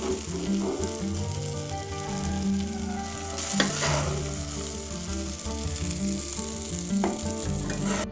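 Egg pepper fry cooking in hot oil in a pan, a continuous crackling sizzle at close range with occasional stirring scrapes and a faint low hum underneath.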